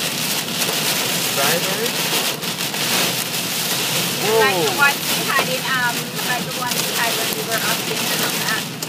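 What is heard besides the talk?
pea-sized hail falling during storm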